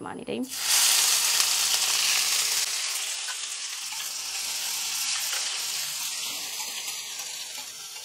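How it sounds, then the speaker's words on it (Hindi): Chopped onion sizzles steadily in hot oil after a loud initial hiss, frying toward golden for chicken tikka masala, with occasional faint stirring sounds over the constant frying. "इसे अच्छा सा सुनहरी होने तक फ्राई कर लेते हैं"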